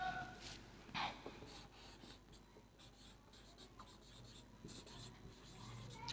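A teacher writes a grammar example on a board during a lesson; quiet scratching and tapping strokes come in short bursts against a soft room background.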